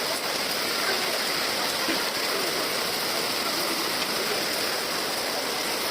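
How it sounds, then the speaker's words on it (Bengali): Heavy rain pours steadily during a village aqiqa ceremony in a storm, a loud, even wash with no break and no voices. "ও বৃষ্টি রে অজস্র বৃষ্টি"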